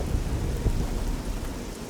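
Steady rain pours down with a deep rumble of thunder rolling underneath, continuous and enveloping, in a video game thunderstorm.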